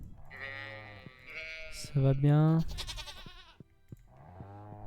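Sheep in the Stardew Valley video game bleating in short, wavering cries, with one louder, longer bleat in the middle and someone speaking French over them.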